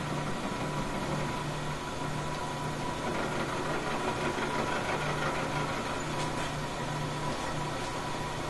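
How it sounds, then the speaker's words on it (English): Milling machine cutting a flat into an aluminum part, a steady, continuous grinding whir holding at an even level throughout. "A flat is milled for the tension screw to perch against."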